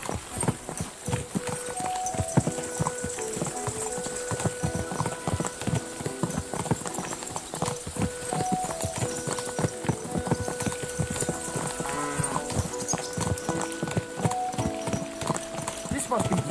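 Horse hooves clip-clop steadily in Kingdom Come: Deliverance 2, a continuous rhythmic trot heard close under background music and someone talking.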